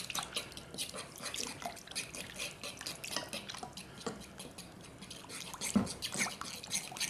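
About two to two and a half cups of vinegar poured into a pot on a stove, giving a steady trickling and dripping wash with small clinks, close and moderately loud, without talk.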